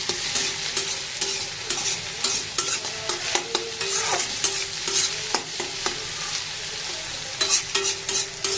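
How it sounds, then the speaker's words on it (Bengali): Noodles with egg being stir-fried in a pan, a constant hot sizzle under repeated scraping and tapping of a spatula against the metal in an uneven, busy rhythm. "নেড়ে চেড়ে মিশিয়ে এটাতে ভাজা ভাজা হয়ে যাবে।"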